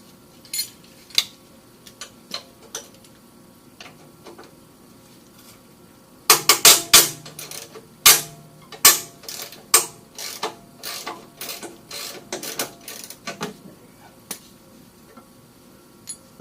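Wrench work loosening bolts on the rear muffler of a Porsche 928, a run of sharp metallic clicks and ratcheting taps, sparse at first then dense and loud, close up with no talking.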